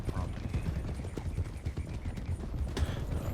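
Hoofbeats of a horse galloping in a video game, a steady rapid clip-clop thudding close under busy game sounds, with a voice talking over it.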